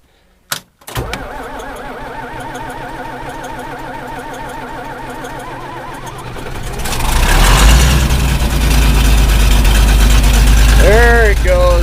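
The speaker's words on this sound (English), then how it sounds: "I had a lot of comments about, cold starting diesels." A diesel truck engine cold-starts with a sharp initial crank, then settles into a loud, rough idle that rises to a heavier, louder run partway through, with a voice heard over it near the end.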